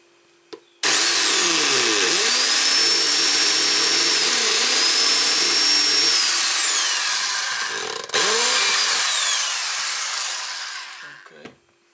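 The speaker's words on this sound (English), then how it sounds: "I'm gonna drill a bigger hole in the middle." A power drill bores a larger center hole in a homemade hi-hat cymbal, loud and close, with a continuous grinding whine and shifting metallic squeals, one brief pause partway through, then winding down.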